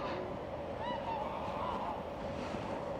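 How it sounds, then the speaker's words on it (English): Geese honk at a park lake, a few drawn-out calls rising above steady wind and water noise that fill the background. "Oh, the geese are quite vocal."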